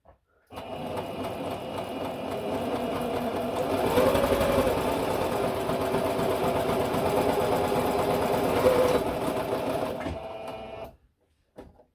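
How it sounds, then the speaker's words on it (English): A sewing machine stitches fabric for a Christmas decoration, running with a steady, close mechanical whir for about ten seconds before stopping, and no one speaks. "going to pull that out and sew again."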